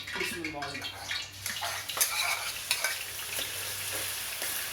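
Onion frying in a pan while cooking mutton paya, with a steady sizzle throughout and occasional stirring scrapes, moderately loud, mixed with a low background hum.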